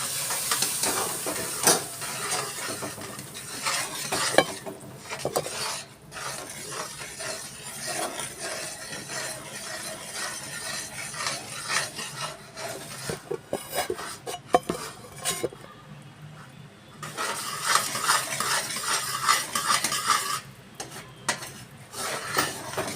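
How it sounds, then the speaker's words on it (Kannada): Hot oil poured into gram flour for Mysore pak, then stirred in a pan: a soft steady sizzle and hiss under repeated metal scraping and clanking, close up, with a short quieter gap before the bubbling picks up again. "ಈ ಸಂದರ್ಭದಲ್ಲಿ ನಾನು ಈ ಬಿಸಿ ಎಣ್ಣೆಯನ್ನು ಹಾಕ್ಕೊಳ್ತೀನಿ"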